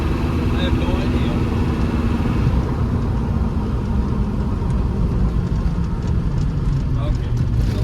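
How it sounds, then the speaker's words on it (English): A 1992 Land Rover Defender 110 with a 200Tdi diesel, heard from inside the cab while braking. There is a loud, steady engine and road rumble with a constant low drone. "Get on the brakes here and see what the brakes do."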